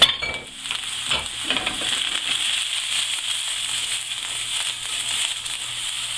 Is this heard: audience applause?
no